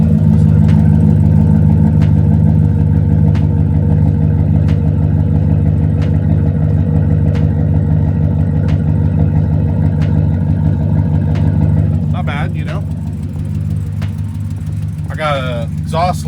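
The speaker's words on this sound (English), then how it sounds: "Exhaust leak because one of the studs is busted off or whatever." A GMC Denali truck engine idles steadily nearby with an exhaust leak from a broken stud, a loud continuous rumble with faint rhythmic ticking, dropping slightly toward the end as a few clicks sound.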